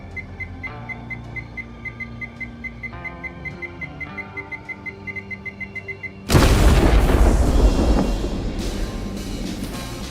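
A loud explosion in the game Schedule 1 erupts suddenly after a steady series of rapid high beeps, then roars and slowly fades.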